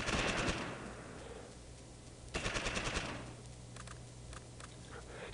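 Gunfire erupts in the World War II Normandy strategy game Close Combat, with rapid bursts of automatic fire at the start and middle and a few scattered shots afterward, moderately loud over faint background rumble.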